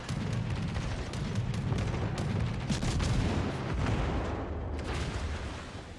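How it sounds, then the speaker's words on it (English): Repeated booming salvos of naval gunfire in the warship battle game World of Warships, with dense overlapping thuds and blasts rolling continuously at strong volume. "DeGrasse gets a few nice salvos in"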